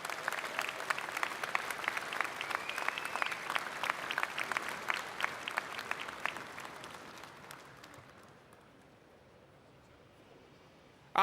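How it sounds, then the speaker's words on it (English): A room full of people applauds at a New York fire department medal ceremony, sustained clapping that gradually thins and fades away to near silence. "Let's have a round of applause for Firefighter Harsh."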